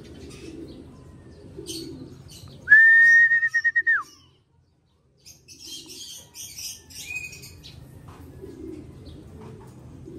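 Racing pigeons at a loft: a sharp, sustained whistle cuts in over low cooing and rustling, followed by a short silence and then faint chirps and soft coos nearby.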